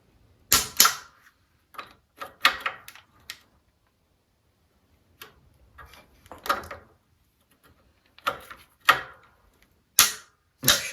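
A torque wrench clicks sharply in short separated bursts while engine bolts are tightened on a Bolens Ride-a-matic engine transplant, with quiet gaps between each set of clicks.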